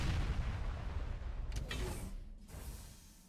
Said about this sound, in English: Did the turret try to attack me?